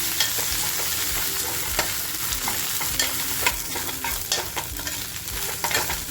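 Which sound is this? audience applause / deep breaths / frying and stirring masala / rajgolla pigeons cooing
frying and stirring masala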